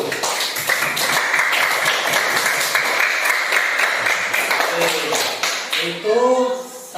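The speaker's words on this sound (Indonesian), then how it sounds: "Tepuk tangan untuk kelompok 1." A classroom group of teacher trainees applauds group 1 with a dense burst of clapping lasting about six seconds. It fades as a voice begins speaking near the end.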